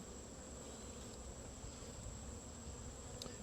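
Honeybees hum around an opened hive frame on a farm, a faint continuous buzzing drone that stays steady throughout with no voices.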